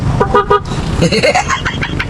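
A jammed service road in heavy traffic is full of idling cars, with several short car-horn toots close by and voices mixed in.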